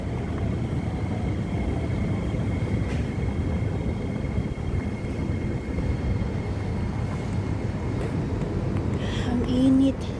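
An MRT train rolls along with a steady, loud rumble and rushing noise, joined near the end by a rising mechanical whine, while muffled voices sit faintly in the background.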